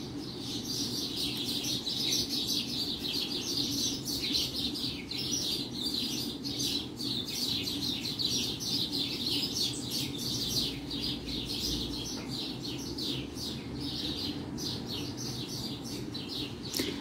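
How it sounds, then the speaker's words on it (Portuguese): Sparrows chirp and squabble in a tree, a dense, continuous chorus of overlapping tweets that stays steady throughout. "isso aí são os pardais na árvore"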